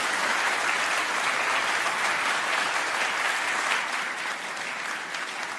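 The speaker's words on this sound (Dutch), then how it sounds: "Applaus voor deze 4 lijsten" Steady, dense applause from a studio audience at a televised Dutch EU election debate, honouring four party lists; continuous and full throughout, easing slightly toward the end, with no voices over it.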